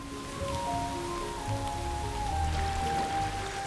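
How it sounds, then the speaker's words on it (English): Heavy late-spring rain pours steadily onto a forest floor, a dense, even hiss of drops pattering on leaves and ground with no pauses, while faint distant bird calls come through. "The water comes down in buckets."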